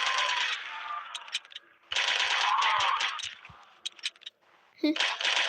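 Bursts of rapid gunfire in a Roblox survival game crackle in short volleys, separated by brief pauses with scattered clicks and shots.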